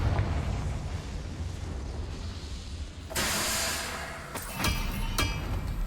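A Confringo fire spell in the video game Hogwarts Legacy, a rumbling blast that swells suddenly partway through over a low, continuous roar, followed by a couple of sharp cracks.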